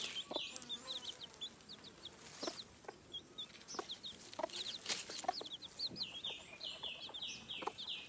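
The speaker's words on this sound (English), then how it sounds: "Look at this mother hen." A mother hen and her little chicks in a Cameroonian village, with soft repeated clucks and a stream of high, thin chick peeps scattered throughout, close and fairly quiet against a calm outdoor background.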